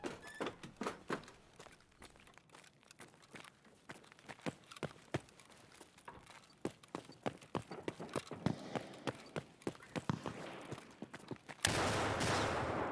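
Scattered in-game gunfire in Escape from Tarkov, a run of sharp, uneven shots and thuds of varying loudness spread over several seconds, ending in a dense burst of noise.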